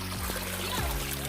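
Water trickles and pours steadily in an outdoor spot by a fishpond, a constant close gurgling wash with no break through the short stretch.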